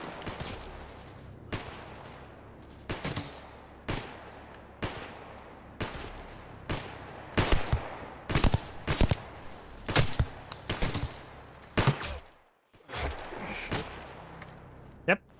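Mercenary sniper gunfire in the Stalker GAMMA video game, a long run of sharp, irregularly spaced shots, some distant and some close and loud, with a voice talking in between.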